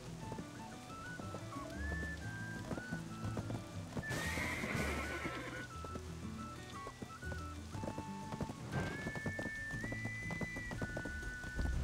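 Horses in the video game Black Desert neigh and whinny over a steady, close clip-clop of hooves, with several rising calls standing out against continuous game ambience.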